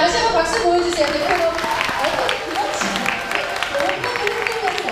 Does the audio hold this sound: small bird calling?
no